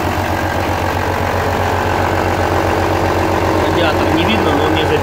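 Steady diesel idle from an Opel Vectra C 1.9 CDTI wagon engine, running smoothly and close with an even, unchanging low rumble throughout.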